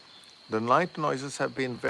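A thin, steady night insect drone hums through the whole stretch in a rainforest, first alone and then under a person talking close by.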